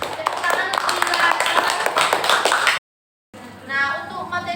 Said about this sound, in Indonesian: Tepuk tangan untuk Dila.